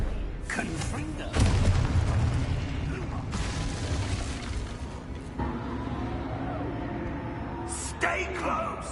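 Confringo spell blasts and other combat magic in the Hogwarts Legacy video game, heard as booming bursts and mechanical crackles layered through a busy battle, with a voice calling out over the action.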